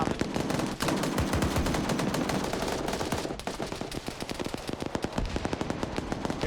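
Dense automatic gunfire in a military video game, rapid bursts of machine-gun fire overlapping one another, loud and nearly continuous, thinning into more separated shots toward the end.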